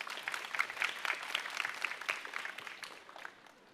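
An audience at a climate-crisis seminar claps to welcome a speaker, a dense burst of applause that gradually thins and fades out with no talk.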